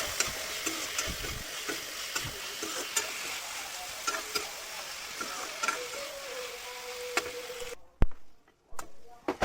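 Onions sizzle and crackle steadily in a hot pan, with occasional scraping stirs, before the frying noise abruptly drops away near the end.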